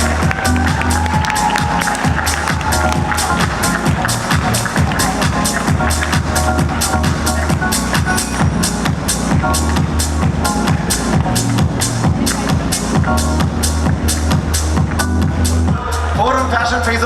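An audience at a Forum Fashion Face Off award ceremony gives sustained, loud applause and cheering, dense clapping that fills the hall without pause, with crowd voices mixed in.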